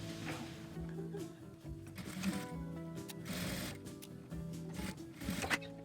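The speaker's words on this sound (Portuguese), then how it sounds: "E vou passar aqui uma costura reta, uma costura de segurança na beiradinha em toda essa parte." A sewing machine running a straight safety seam along the edge of a fabric necessaire, its needle whirring in a steady mechanical rattle with brief pauses and restarts, close and fairly quiet.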